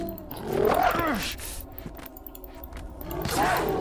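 Dogs growl and snarl in Prince of Persia Warrior Within, a rough rumbling burst up close at the start, then quieter rustling, and another growl rising at the end.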